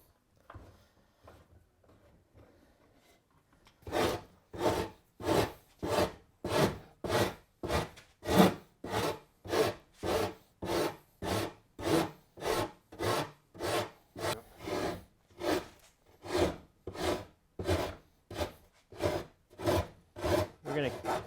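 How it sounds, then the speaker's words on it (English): A file rasps rhythmically along the edges of a wooden sword, about thirty steady back-and-forth strokes, close and clear with no talking. "our 4 edges have been filed down"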